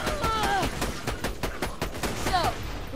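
A rapid string of sharp, loud gunshots from a corrosive sniper rifle in Borderlands 2, cracking repeatedly in close succession with faint whistling effects between them.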